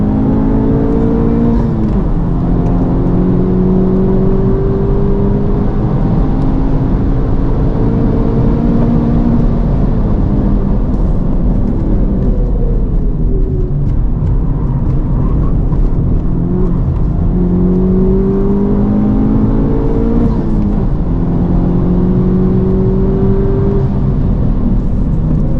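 An FL5 Honda Civic Type R with a COBB Accessport OTS 93 tune is driven hard on a race track, heard from inside as a loud, continuous engine roar with repeated rising pitch sweeps through the gears over steady road and wind noise.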